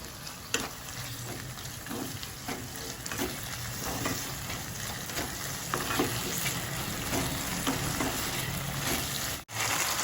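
Chicken mince with yogurt sizzling in a pan for a chicken keema tadka, a steady close frying crackle with stirring scrapes throughout.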